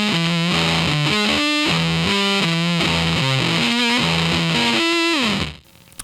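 Electric guitar through a Blue Meanie fuzz and octave pedal with the tone turned all the way up, giving a bright, heavily distorted riff of sustained chords and bending notes, loud and alone before cutting off near the end.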